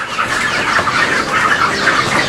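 Chickens cluck and squawk continuously nearby, a busy overlapping chorus of fowl with no pauses.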